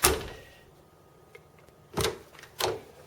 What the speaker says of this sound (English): The door closes nicely.